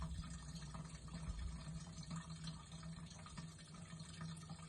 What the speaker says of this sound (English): turn my tap on. See, fuel's coming out fairly alright